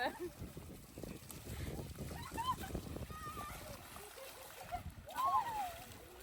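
Water splashes as a family bathes in a shallow river during a Pongal outing. The splashing is irregular and close, mixed with children's voices and chatter throughout.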